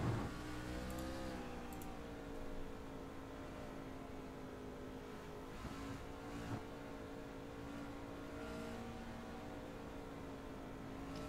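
A racing truck engine roars steadily from an onboard view in a truck series racing game, its continuous droning whine shifting pitch slightly as it holds speed, loud and close with no voices.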